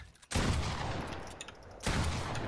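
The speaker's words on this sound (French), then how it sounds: "Donc double edit, coup de pompe." Two loud, booming pump-shotgun blasts from a video game map edit, roughly a second and a half apart, each trailing a long decaying echo, with no voices.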